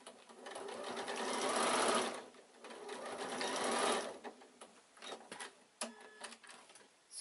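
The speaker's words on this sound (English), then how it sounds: "we need to sew the handles in" A sewing machine stitches the handles into a quilted evening bag, buzzing in long close runs, pausing, then resuming in shorter stop-start bursts with small clicks between them.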